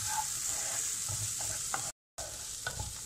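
Taro pieces frying with ginger garlic paste and green chili over a low flame, a continuous close sizzle with soft stirring clicks, broken by a short silent gap.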